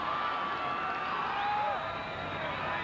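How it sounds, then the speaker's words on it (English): A high school football crowd at a Broken Arrow Tigers versus Union Redskins game hollers in a dense, continuous roar from the stands, with a whistle-like tone gliding through. "Broken Arrow crowd's hollering for a late hit."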